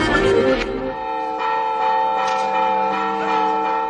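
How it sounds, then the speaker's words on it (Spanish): A village church bell in Figueruela de Abajo rings out to call the residents to council, with loud, close strokes whose rich overtones ring on and overlap steadily, and no voices. "El toque de campana convocaba a los 200 vecinos de Figueruela de Abajo"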